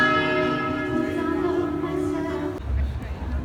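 Church bells ringing together across an Italian city, sustained overlapping tolls carrying over street hubbub and nearby voices, then cut off by a low rumbling noise near the end.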